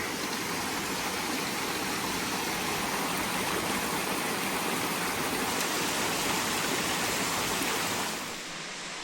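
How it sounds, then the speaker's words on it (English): Running water from a stream beside a mountain hiking trail in New Hampshire's White Mountains, heard as a continuous, even rushing hiss with no talking, easing slightly at the very end. "Coming up the trail, you hear some water."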